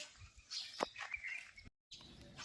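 A few faint, high sparrow chirps sound in quick, scattered bursts on a cloudy morning, quiet and somewhat distant, with a brief moment of total silence.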